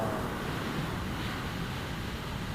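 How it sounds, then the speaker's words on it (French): Heavy waves break against a coastal sea wall, a loud continuous roar of surf and spray mixed with wind buffeting the microphone, with no voices. "quand on voit déjà la gueule des déferlantes, imaginez ce que ça avait pu être ce jour"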